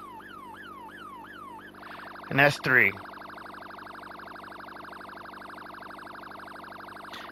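A police car siren in the video game Highway Police Simulator wails in rapid rising sweeps, then switches to a steady high electronic tone as a voice briefly speaks over it; fairly quiet overall.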